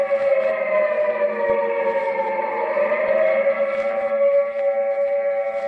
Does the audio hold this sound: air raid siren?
yes